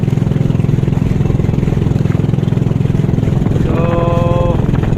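A motorcycle engine runs steadily throughout at a low, throbbing idle on a shallow shoreline at low tide, with a brief higher whine near the end.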